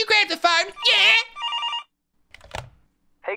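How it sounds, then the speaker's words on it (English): A telephone rings in the video game Ghost Mommy Pizzeria, a few short ringing bursts near the start followed by quiet gaps and brief clatter. "looks like the phone's ringing"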